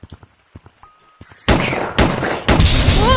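Gunshots in a sci-fi gorilla film scene, a series of loud, sharp blasts with booming tails arriving in quick succession after a few quieter clicks and knocks.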